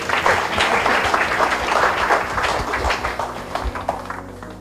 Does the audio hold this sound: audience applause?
yes